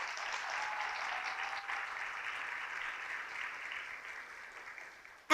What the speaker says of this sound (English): Ladies and gentlemen, a round of applause for a very well-known speaker, our Senator Chuy Hinojosa